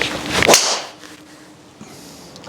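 A sharp, bright swish-and-crack of a carbon-heavy golf driser hitting a ball, loud and close, followed by fading outdoor ambience.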